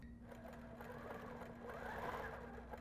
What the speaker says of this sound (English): So I am going to actually, what I'm going to call a back stitch, I'm going to go past it and come back.